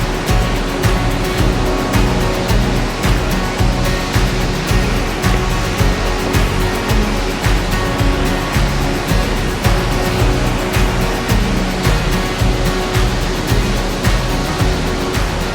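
Bighorn Falls, a waterfall on a creek in Alberta's Ya Ha Tinda area, roars loud and close in a constant broadband rush that never lets up, with no talking.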